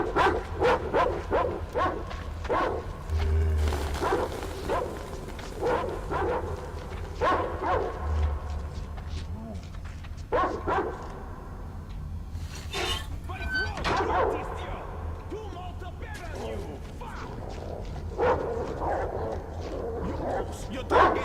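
Dog yips, barks and whimpers in the Metro Exodus video game, short bursts scattered throughout under frequent talking, over a steady low game hum.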